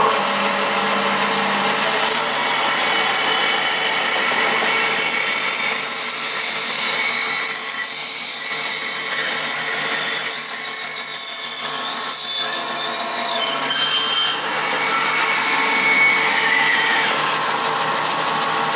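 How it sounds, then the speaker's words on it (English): A bandsaw fitted with a new half-inch blade cuts a circle out of wood, giving a steady loud whirring drone that holds for the whole stretch with slight shifts in pitch as the cut turns. "so the bandsaw is all set up. I think I'll cut the circle off first."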